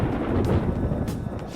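Low rumbling thunder rolls in the Persona 5 Royal video game ahead of rain, a loud, steady, sustained roar with no voices over it.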